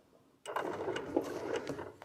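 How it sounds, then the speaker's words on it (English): A sewing machine starts up and runs a short burst of small stitches, a quick, close mechanical whirring with light clicking, steady until the end. "Pulled up the bobbin thread and going to stitch a couple of stitches"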